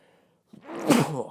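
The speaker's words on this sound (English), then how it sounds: "Just sneeze right into the microphone" A single loud sneeze bursts out close to the microphone after a brief near-silence, sharp and breathy.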